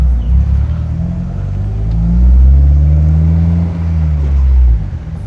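A Honda S2000 AP2 with its VTEC inline-four pulls hard while driving, a loud, deep, continuous engine drone that climbs and swells before easing off near the end, heard from inside the car with no talking.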